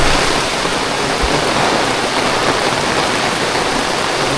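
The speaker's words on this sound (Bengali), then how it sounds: "প্রচুর প্রচুর বৃষ্টি হচ্ছে প্রচুর আর এখন বাইরে থাকাটা প্রচুর বিপজ্জনক" Very heavy rain pours in a steady, dense roar that stays loud and unbroken throughout, with no voices.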